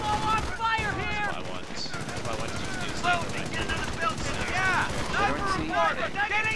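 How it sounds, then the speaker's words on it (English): Rapid bursts of machine-gun and rifle fire crackle in the Company of Heroes video game, dense and continuous with whistling ricochets, while a player talks over the battle. "The enemy is targeting the church. Taking full on fire here."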